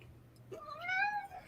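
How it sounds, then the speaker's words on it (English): A cat gives a single rising and falling meow, close and fairly quiet against a low background hum in a home. "Cat."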